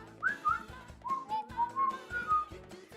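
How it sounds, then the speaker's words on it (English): Someone whistles a tune up close, a clear melodic line of several sliding phrases with no talking. "I don't know if I can whistle right now."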